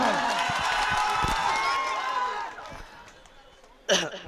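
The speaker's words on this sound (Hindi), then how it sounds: "जोरदार ताली" A political rally crowd breaks into loud clapping and cheering for an AIMIM candidate, a dense burst of applause that fades after a couple of seconds, with a voice speaking near the end.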